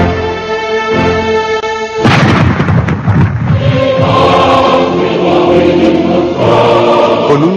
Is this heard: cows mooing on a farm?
no